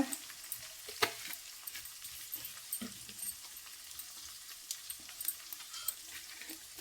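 Garlic paste fries in oil with a little soy sauce in a pan, a quiet steady sizzle with scattered clicks of stirring and spoon scrapes.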